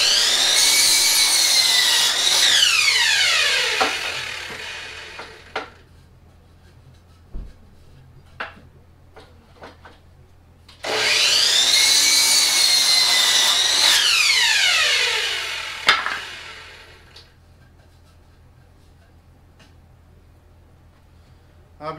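A miter saw on a stand cuts through wooden boards in two long, loud passes, each whining as the blade spins up, biting through the wood and then winding down, with quiet pauses and small clatters between them.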